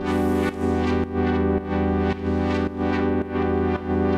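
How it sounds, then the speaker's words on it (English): A warm synth pad saturated with a Soundtoys Decapitator plugin plays sustained chords that swell and repeat roughly every half second, steady and fairly loud, with no talking. "To add some more warmth to the sound, I've added a decapitator from Soundtoys,"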